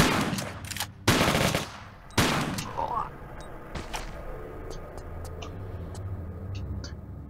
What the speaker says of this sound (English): Let's light him up with a shotgun.